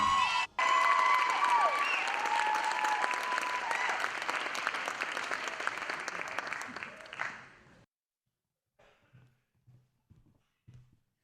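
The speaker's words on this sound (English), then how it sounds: "Give her another round of applause for Missy Mendoza." A pageant audience at Miss Anaheim 2016 gives a singer a dense, loud round of applause with some cheering, which thins and stops abruptly, leaving near silence broken by a few faint soft sounds.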